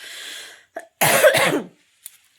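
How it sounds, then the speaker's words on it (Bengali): One person gives a single loud, harsh cough close to the microphone, with a brief breath or throat sound before it and small faint noises after. "স্নান করার পর প্রচণ্ড কাশি হয়"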